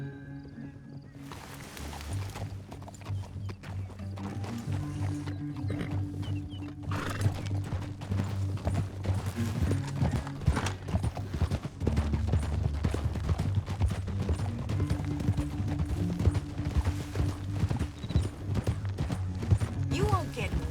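Horse hooves galloping in Red Dead Redemption 2, a rapid continuous clatter of hoofbeats under a sustained low musical drone, steady and moderately loud throughout.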